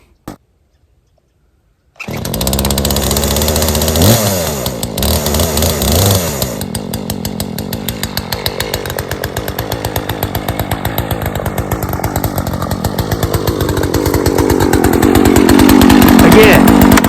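A cheap petrol chainsaw, unused for two years, runs loud and close after a pull start, its two-stroke engine idling roughly then revving up to a sustained high whine that builds toward the end.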